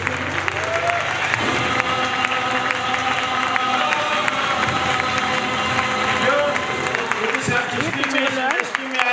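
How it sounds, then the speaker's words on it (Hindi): Applause and cheering from a crowd at a network-marketing training event in Haridwar, dense clapping mixed with loud music and voices calling out throughout. "जबरदस्त तालियां दिल से ना"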